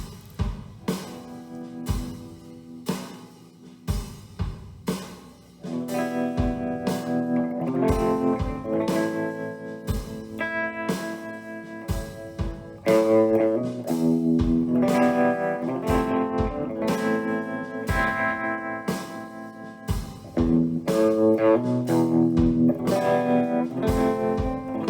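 Guitar riff in a heavy blues-rock style, sketched out while songwriting with EZdrummer 2: sharp, rhythmic struck chords open sparsely, then a fuller sustained band texture with steady drum-like hits fills the rest, loud and alone.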